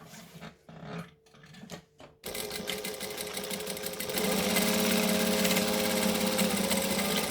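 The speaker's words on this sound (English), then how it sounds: "I'm going to top stitch these two sides" A sewing machine top stitching the sides of a fabric bag runs as a steady, close mechanical whir that builds and grows louder after a few short starts and stops.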